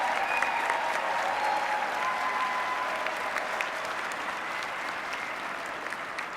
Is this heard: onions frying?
no